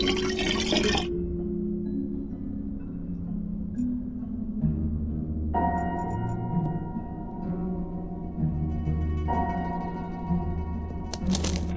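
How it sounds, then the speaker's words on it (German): Water pours into an empty pot in the Black Mirror III game, a rushing fill that shifts in pitch as the level rises, starting with a loud splash and ending in a few clinks and drips. "Ich fülle gleich etwas Wasser rein."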